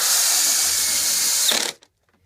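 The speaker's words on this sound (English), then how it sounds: "And you just run the drill in." A power drill driving in screws on a Sea-Doo jet ski battery mount whirs steadily at high speed for about a second and a half, then winds down and stops.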